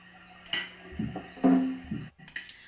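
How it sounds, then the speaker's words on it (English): A tool carves into the hardened surface of a clay pot. Several separate scraping, clinking strokes come close and moderately loud, with short pauses between them. No voices. "I cut into the surface"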